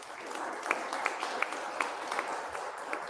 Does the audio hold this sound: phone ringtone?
no